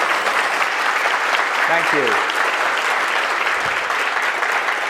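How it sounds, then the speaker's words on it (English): Lecture audience applauding after a prayer, loud continuous clapping from a sizeable crowd throughout, with a brief spoken voice cutting in over it near the middle. "A round of applause, please, for the wonderful prayer."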